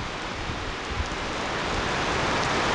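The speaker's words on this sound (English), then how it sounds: "It's starting to rain" Rain falls on a 1997 Grady-White 225 Tournament boat, a 22-footer with a 2014 four-stroke outboard, making a steady dense hiss that stays even throughout, with no voices.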